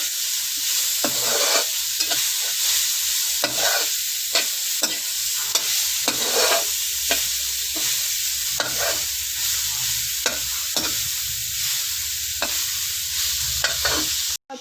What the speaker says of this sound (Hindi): अच्छा सा फ्राई कर लिया।